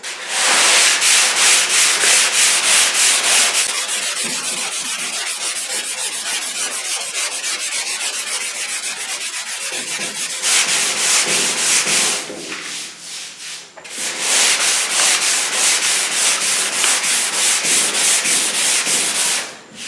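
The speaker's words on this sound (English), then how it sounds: "I'm going to switch over to the 180 just to change the texture of the sanding" Loud rhythmic hand block sanding of body filler with 180-grit paper, rapid back-and-forth scraping strokes in bursts with short pauses between, close and continuous.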